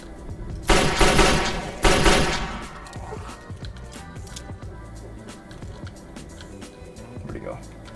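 Pistol gunfire in Fallout 3's The Pitt add-on, two loud sharp shots close together near the start followed by quieter game ambience and clatter.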